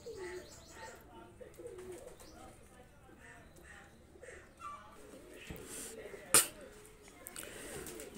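A pair of high-quality Salotika magar pigeons coo softly and repeatedly, with faint chirps, against a busy background and a sharp click near the end.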